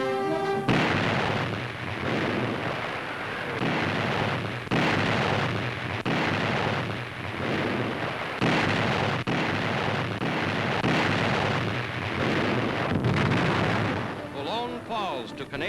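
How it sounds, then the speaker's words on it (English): 15-inch coastal guns fire an artillery barrage on Boulogne in wartime newsreel audio, heavy booming blasts roughly every second or two over a dense continuous rumble, with narration over it. "15-inch coastal guns open a devastating artillery barrage against the entrenched enemy in Boulogne."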